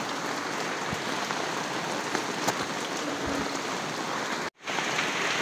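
Heavy rain pours steadily in a dense, continuous hiss, with a brief dropout near the end.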